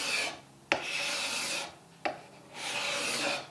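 A card scraper shaves a piece of mahogany clamped in a bench, making three close, loud rasping strokes, each opening with a sharp scrape and fading into a short pause before the next pass.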